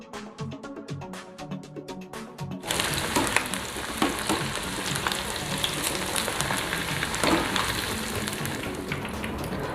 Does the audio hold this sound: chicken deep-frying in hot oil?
yes